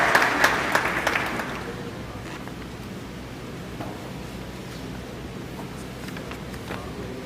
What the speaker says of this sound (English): Let's give them a round of applause as the commander receive on their behalf.